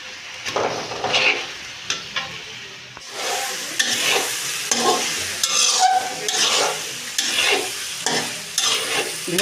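Rohu fish head pieces frying with moong dal in a pan, stirred with repeated scraping strokes over a steady sizzle that grows louder partway through, close and alone.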